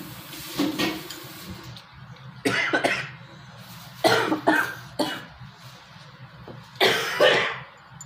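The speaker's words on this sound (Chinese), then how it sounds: "开始咳嗽呀，又开始生病呀" A person coughs several times in separate bursts at a family meal, close and fairly loud, with dishes and cutlery clinking between the coughs.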